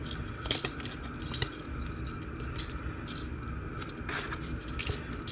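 Plastic Transformers Titans Return Deluxe Brainstorm toy having its panels and cockpit folded, a series of small close clicks and taps spaced irregularly over faint background hiss.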